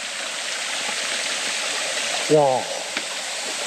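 A waterfall dropping about 30 m into a mountain valley stream gives a steady, dense rushing roar throughout, with a brief exclamation from a voice partway through.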